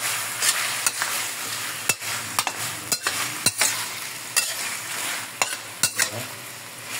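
Beef being sautéed in a hot pan for a Filipino mechado: steady loud sizzle with repeated sharp scrapes and clacks of a utensil stirring the meat, and no voices.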